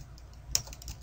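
Brief typing on a computer keyboard while entering text in Photoshop, with a few soft, scattered key clicks, one sharper tap midway and another near the end, quiet and close.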